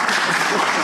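A short burst of clapping rises from the room at a congressional hearing, brief and fairly even.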